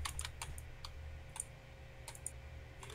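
Computer keyboard typing in rapid, irregular bursts of clicks over a steady low hum, close by, with no talking.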